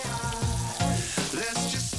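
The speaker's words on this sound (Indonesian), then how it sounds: "Lanjut goreng aneka sate-satean," Satay skewers, tofu and tempeh frying in hot oil give off a steady sizzling crackle that sits under louder tonal music throughout.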